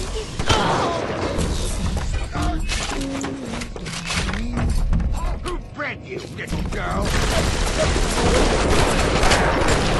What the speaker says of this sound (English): Haven't seen the Big Daddy with a shotgun.